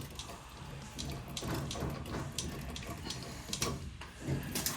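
Water gushes and splashes from a washing machine hose as it is loosened during hose replacement, a steady close-up running and trickling sound that lasts the whole stretch.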